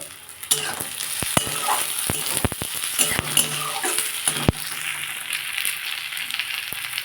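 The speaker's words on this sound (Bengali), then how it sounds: "আমার পেঁয়াজটা অনেকটাই ভাজা হয়ে গেছে এবার আমি রসুনগুলো দিয়ে দেবো" Garlic dropped into hot oil with fried onions for a lentil tadka, giving a loud close sizzle and frying hiss with sharp clinks and scrapes of a spoon against the pan, with no voices.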